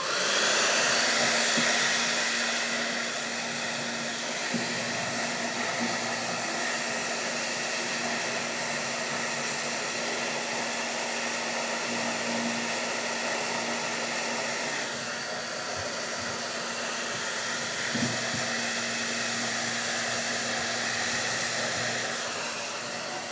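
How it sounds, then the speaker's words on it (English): A hair dryer blows steadily and continuously at close range, a constant airy roar with a low motor hum and no voices. "I do have my handy blow dryer with me"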